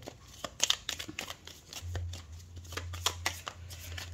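Tarot cards being shuffled for a 13-card spread, a series of quick, soft riffling and flicking bursts, close and fairly quiet, repeating irregularly with a faint low hum underneath.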